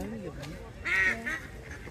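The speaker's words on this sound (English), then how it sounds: "There's a duck on the path." A duck on a garden path at Walton Hall and Gardens, Warrington, gives a loud, close quack partway through, with people talking around it.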